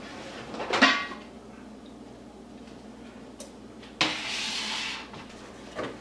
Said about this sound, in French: Je vais sortir ma cocotte du four.